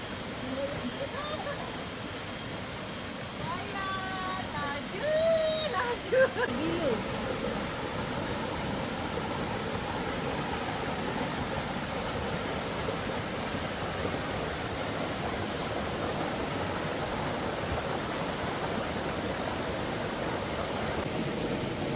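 Steady broadband rush of a flowing river beside a campsite, continuous and fairly loud, with people talking briefly over it near the start.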